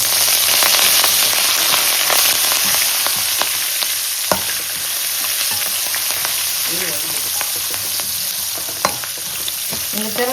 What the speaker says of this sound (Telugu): ఇంకా తిరగమాత కాలిందనమాట.